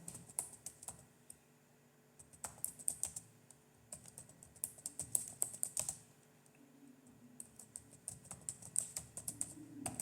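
Fingers type on a computer keyboard at close range, a quiet, irregular patter of keystrokes in short runs with brief pauses and no talking.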